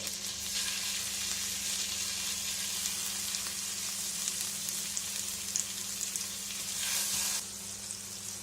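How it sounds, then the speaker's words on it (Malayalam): Marinated chicken strips fry in butter with vegetables, giving a steady, even sizzle with occasional crackles and a faint low hum underneath, with no talking. "ഇതിലേക്ക് നമ്മൾ മാരിനേറ്റ് ചെയ്ത് വെച്ചിരിക്കുന്ന ചിക്കൻ സ്ട്രിപ്സ് ചേർക്കാം."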